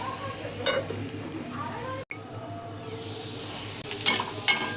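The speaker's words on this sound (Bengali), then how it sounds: "আর একটু ভাজলেই আমার আলুটা হয়ে যাবে" Potatoes fry in oil in a pan, a steady, fairly loud hiss that runs throughout, with a short break in the middle and light utensil clinks near the end.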